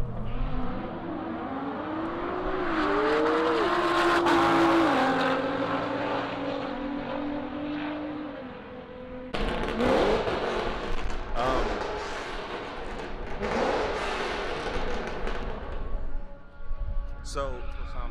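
An Audi R8 launches and accelerates hard down a drag strip at a large car meet, its engine note climbing loudly through the gears before fading, then more engine noise follows under crowd chatter and nearby talking.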